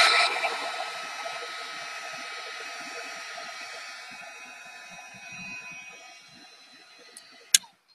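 A heat gun blows a steady, close whooshing hum over embossing powder on a card, slowly fading in strength, then it is switched off with a sharp click near the end.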